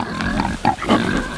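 Pigs waiting for their food grunt and snort up close in a quick run of short, loud grunts, with a voice calling out briefly among them.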